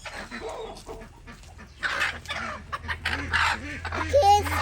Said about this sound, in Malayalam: ഇത് നാല് നാലര വർഷത്തോളം പഴക്കമുള്ള കോഴിയാണ്